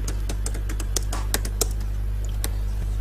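Computer keyboard keys clatter in an irregular run of close clicks during a typing test, over a steady low electrical hum.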